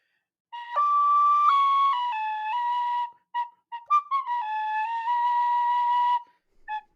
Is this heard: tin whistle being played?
yes